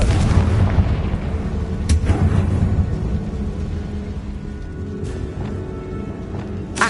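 A Confringo blasting spell explodes in the game Hogwarts Legacy, with several heavy booms and rumbling bursts over a dense, loud background.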